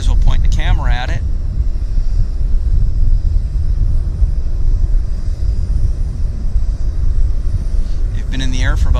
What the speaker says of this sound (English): So we've got Japan Airlines coming in on the other side. Their 767-300 Narita service.